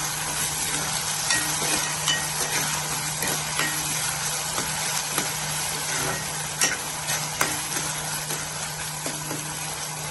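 Tomato and spice tempering sizzling steadily in a pan, a dense continuous fry heard close with a few faint clicks and taps of stirring and no voices.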